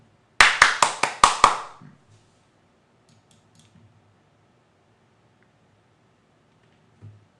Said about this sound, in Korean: 공개하신 분에게 박수 한번 부탁드리겠습니다.